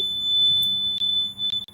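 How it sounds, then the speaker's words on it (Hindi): The buzzer of a homemade battery voltage indicator sounds a low-battery warning. It is a steady, piercing high-pitched electronic tone that is loud and continuous, with a few faint clicks near the end and no speech. "इसके बाद ये आराम से आपका ये बजर बजेगा"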